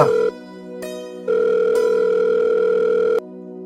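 An electronic telephone rings with steady tonal bursts, a short pulse then a longer sustained ring, loud and close with no voices.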